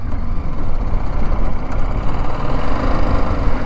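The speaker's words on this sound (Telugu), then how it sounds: "313cc liquid cooled DOS engine అయితే ఇచ్చారు." A BMW G310 GS adventure motorcycle with a 313cc liquid-cooled engine runs on a dirt road, producing a loud, steady low rumble close to the listener with no speech over it.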